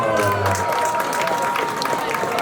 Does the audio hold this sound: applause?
yes